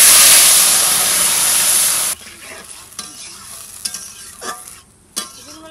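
Bay leaf dropped into hot oil on a gas stove sizzles loudly and steadily at first, then drops to a quieter crackle broken by a few sharp pops and scrapes.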